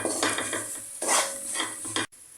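Minced beef filling for murtabak is stirred and mixed in a bowl, producing a brief, moderately loud wet scraping and churning that ends with a sharp stop.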